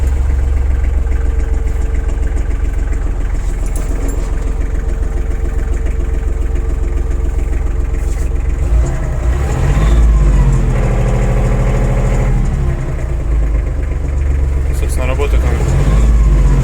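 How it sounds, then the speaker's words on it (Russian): A small diesel engine on an Iseki GEAS33 Japanese mini tractor with cab and rotary tiller turns over and settles into a loud, steady close-up idle, with someone talking over it. "Давайте запустим трактор сейчас."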